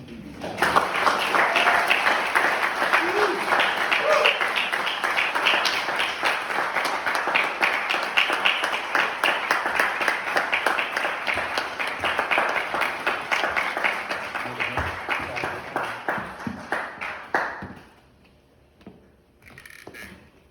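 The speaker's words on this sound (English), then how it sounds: "Let's have a nice round of applause for Ron Bremner" An audience at a poetry magazine launch reading bursts into sustained, close applause after a poem, dense clapping for about seventeen seconds before it suddenly stops, leaving a quiet room with a faint final clap.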